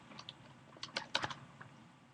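Faint, close keystrokes on a computer keyboard, a short irregular burst of several taps clustered in the middle, with quiet gaps before and after.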